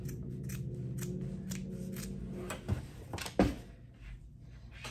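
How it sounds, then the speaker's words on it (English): Fabric scissors cut through a sweatshirt, giving repeated close crunching snips with rustling cloth, growing louder and sharper toward the end. "So just take your fabric scissors and just start cutting."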